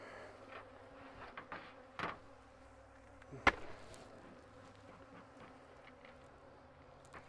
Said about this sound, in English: these bees aren't real happy